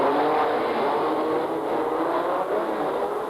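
Simca 1000 rally cars race past in a continuous loud, close engine roar and whir, with revving held steady for several seconds and no voices.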